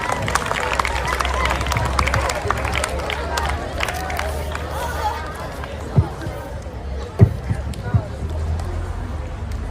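Students and staff at a school Republic Day program clap to welcome a student speaker. A dense, steady patter of applause mixes with crowd murmur and a few louder knocks.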